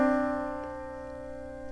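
A major second interval sounds as two adjacent notes together in one steady sustained tone, clear and close, with no talking over it.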